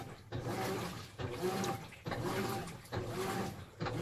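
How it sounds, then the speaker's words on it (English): A household washing machine running very quietly, its drum churning and sloshing water in slow repeating cycles about every second, faint and alone. "As you can hear, the washing machine is going."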